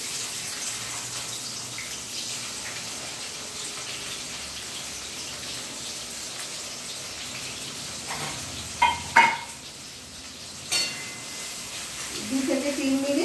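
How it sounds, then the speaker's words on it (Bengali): Onions fry in oil in a wok, a steady close sizzle that runs throughout, broken near the end by a few utensil knocks and a brief voice. "সেই পেঁয়াজগুলো এবার তেলের মধ্যে দিয়ে দেওয়া"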